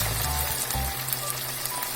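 Beans dropped into a pan of browned chorizo hiss in an even, close frying sizzle, with a few low thumps early on and no talk.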